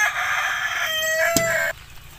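Chickens in a backyard flock, with a rooster crowing loudly and close by across most of the moment while hens cluck underneath, ending abruptly into quieter ambience.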